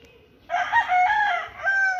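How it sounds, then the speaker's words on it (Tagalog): An imported fighting rooster crows once, nearby and loud, in a single drawn-out call of about a second and a half. "Mga imported na manok yan."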